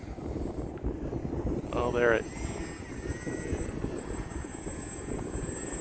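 A Hobbyzone Aeroscout S RC airplane flies in strong wind, its faint motor drone distant and steady beneath constant wind rumble, with a brief voice speaking.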